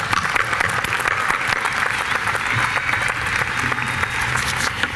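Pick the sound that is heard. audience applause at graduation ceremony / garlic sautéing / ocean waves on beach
audience applause at graduation ceremony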